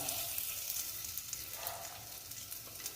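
Beaten egg mixture frying in hot oil in a wok, a steady, fairly faint broadband sizzle with soft crackles running evenly throughout, no talking.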